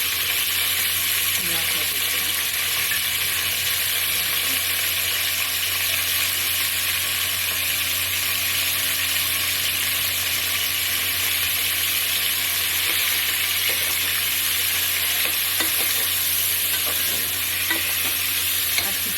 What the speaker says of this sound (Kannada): ಚಿಕನ್ ಪಾತ್ರೆಗೆ ಅಂಟಬಾರ್ದು ಆ ಥರ ಇದನ್ನು ಹೀಗೆ ಸ್ವಲ್ಪ ಫ್ರೈ ಮಾಡ್ಕೊಂಡಿದ್ದೀನಿ